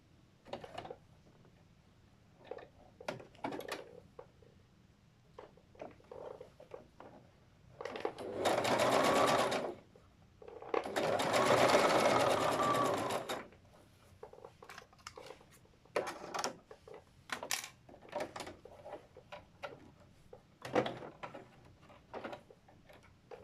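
A sewing machine stitches a folded fabric edge in two loud, steady whirring runs, surrounded by quieter clicks and handling taps of fabric being adjusted.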